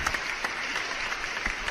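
Applause in a radio studio during a live broadcast, a steady moderate wash of clapping with a few louder individual claps, no voices.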